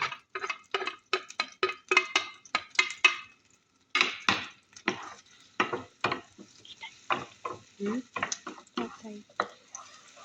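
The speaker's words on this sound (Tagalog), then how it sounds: "Igisa mo muna natin ng sibuyas, bawang." Onion and garlic being sautéed in a pan, stirred in quick repeated scraping strokes with a soft sizzle underneath, while a voice speaks briefly.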